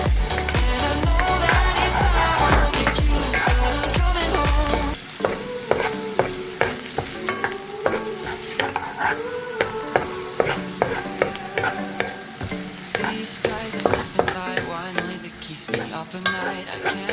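Garlic fries in a hot pan while being stirred, a steady loud sizzle with repeated scraping stir strokes that dips slightly after a few seconds but carries on throughout, with no voices.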